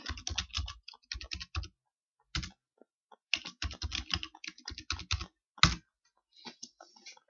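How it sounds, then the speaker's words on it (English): Bursts of close, crisp keystrokes on a computer keyboard as a password is entered, typed in quick uneven runs with short pauses between them and one firmer key hit near the end, no voices. "Then type your new password."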